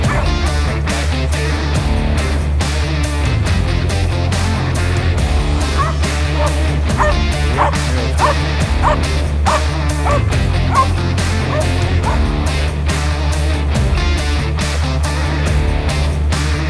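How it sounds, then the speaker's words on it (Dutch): A trained detection dog barks repeatedly in a rapid, loud series of sharp woofs and yips, close by, inside a train during a search exercise, with low rumbling background noise. "En dan moet hij daarop aan gaan blaffen."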